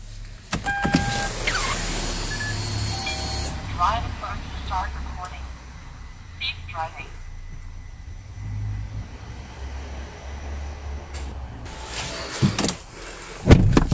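A car's electronics power up after the ignition is switched on without starting: a whine from an electric motor, a few small clicks and ticks from relays, then quieter hum, with a louder knock near the end.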